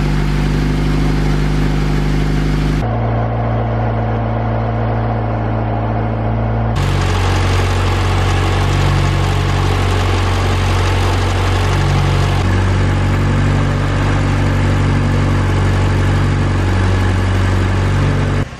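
A Honda B20 VTEC conversion engine runs at idle just after its first start, a loud, steady rumble that shifts in pitch slightly twice as the idle settles, with no talking.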